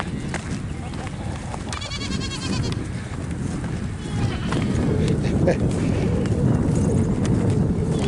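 Goats bleat repeatedly and loudly amid rustling and wind buffeting on the microphone, with a continuous noisy outdoor background.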